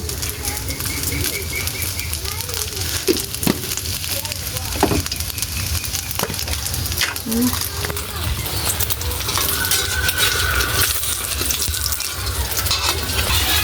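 Hotdog and egg fry over a strong fire, a steady loud sizzle with scattered clatter and pops running throughout, no talking over it.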